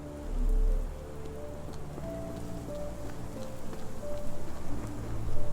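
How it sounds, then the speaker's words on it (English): Steady rain in the Sherlock Holmes: The Awakened video game, a dense wash of falling drops with a low rumble early on and faint tonal hums from the game underneath, growing slightly louder toward the end. "This dreary rain is making a miserable day even worse."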